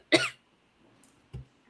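A teacher gives a sharp, close cough, followed about a second later by a softer, shorter second cough, with near silence between them.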